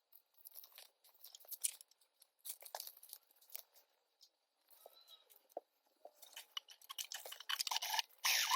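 Scissors trim the fabric lining of a crossbody sling bag, giving irregular close snips and crinkly rustles of cloth that come in bursts between short pauses.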